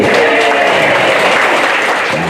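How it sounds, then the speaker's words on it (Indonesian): Audience applause at a school principal farewell-and-welcome ceremony, a steady, dense wash of many hands clapping throughout, loud and continuous with no voices over it. "Tepuk tangan Bapak Ibu."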